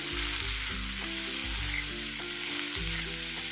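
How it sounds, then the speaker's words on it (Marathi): Chopped bell pepper sautéing in hot oil, a steady close sizzle with a few stirring scrapes, continuous and fairly loud with no voices. "अगदी एक ते दोन मिनटं व्यवस्थित अशी तेलामध्ये परतवून घ्यायची"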